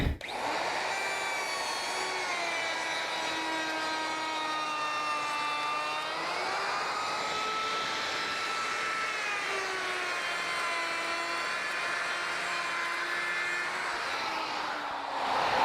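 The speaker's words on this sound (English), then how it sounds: "you see where I'm getting the chip out with the router?" Handheld router cutting wood on a corner cabinet, a loud, sustained high whine whose pitch wavers and dips as the bit loads up in the cut, running continuously throughout.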